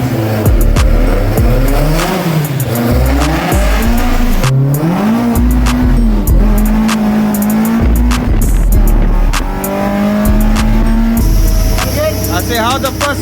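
Full race spec VW MK1 with an ABF engine and Jenvey individual throttle bodies on a road test, loudly revving up through the gears with rising and falling engine pitch, sharp shift breaks and intake roar.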